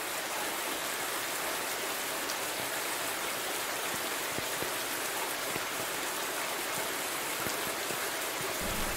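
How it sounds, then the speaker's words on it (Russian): Heavy downpour in a video game, a dense continuous roar of rain with scattered drop patter, steady and loud for the whole stretch with no voices. "ливень так и не прекращается"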